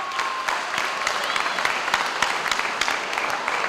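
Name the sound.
audience applauding for board member Joe Yoshimura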